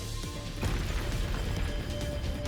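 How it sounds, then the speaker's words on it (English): In the game Neural Cloud, an explosion mixes with the grinding of great shifting walls: sharp thuds and crashes over a low, rumbling mechanical churn, with a heavier hit near the middle. "The explosion blends with the sound of the shifting of the great walls."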